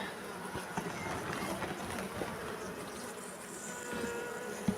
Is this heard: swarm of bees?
yes